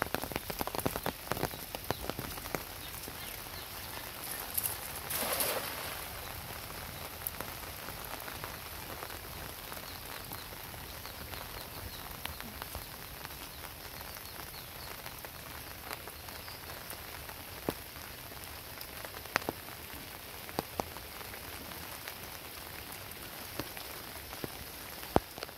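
Steady, unbroken rain falls during the rainy season at a fishing spot, a soft constant hiss with scattered nearby drop impacts throughout, no voices.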